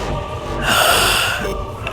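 A voice imitating a wheezing gasp, a rasping drawn-in breath lasting about two seconds, loud and close, rising in the middle then trailing off.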